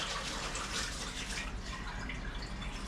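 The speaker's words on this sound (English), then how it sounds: "we're just going to rinse that out, and I'm going to draw up some water" Tap water runs steadily into and over a sourdough jar being rinsed out, a dense continuous hiss and splash close by with no pauses.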